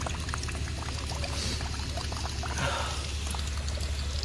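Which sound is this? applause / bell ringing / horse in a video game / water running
water running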